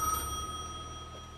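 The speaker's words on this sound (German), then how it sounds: "Beantworte das Telefon." A telephone in the game Gas Station Simulator gives a short electronic ring, a thin steady tone that fades after about a second, fairly quiet and alone.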